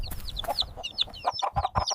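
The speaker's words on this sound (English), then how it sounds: "Hen." Close hen clucking comes in a busy run of short, clipped calls, some sharper and higher, spaced unevenly across the stretch with no talk.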